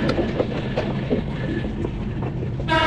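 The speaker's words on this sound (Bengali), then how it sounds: "দেখতে পাচ্ছেন আমরা সান্তাহার রেলওয়ে স্টেশনে ঢুকে পড়ছি" A train rumbles steadily with rhythmic wheel clatter, heard from on board as it rolls into Santahar railway station, ending with a brief rising tonal squeal.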